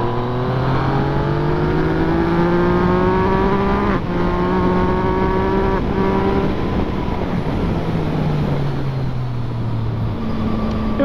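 A Yamaha XSR 900 motorcycle engine pulls steadily while riding, its loud continuous drone rising in pitch through the gears with brief dips at gear changes and constant wind rush throughout.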